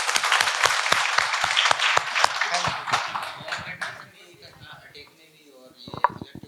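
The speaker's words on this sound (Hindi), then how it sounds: "इन दोनों ने काफी अच्छा बताया, ताली बजाइए।" An audience at a first-aid and CPR training session breaks into brisk clapping that fades after a few seconds, followed by a few scattered claps.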